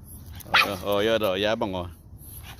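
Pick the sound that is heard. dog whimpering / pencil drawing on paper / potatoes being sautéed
dog whimpering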